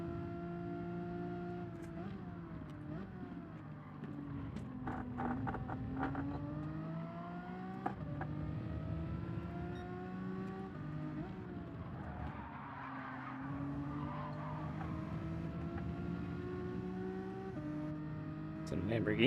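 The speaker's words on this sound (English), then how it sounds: "It's a Lamborghini." A Lamborghini races in the video game Gran Turismo 7. Its engine note rises and falls through the gears, and tyres squeal in the corners. Game audio plays steadily under a person talking.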